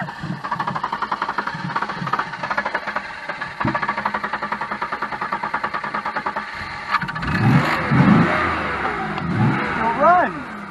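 A Buick car engine revs in short repeated bursts, then settles into a rougher running rumble, with people talking nearby.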